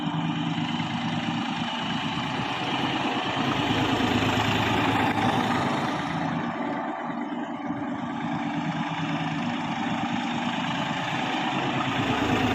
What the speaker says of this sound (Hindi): ये देखिए, थोड़ा सा राउंड लेने के बाद ये ट्रैक्टर स्टार्ट होता है।